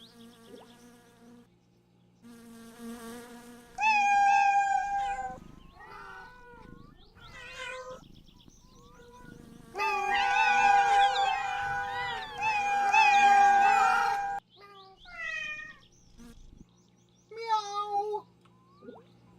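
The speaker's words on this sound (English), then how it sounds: "It's a really big cat" A large cat in a video game meows repeatedly in clear, separate calls, some long and drawn out, over a faint steady hum.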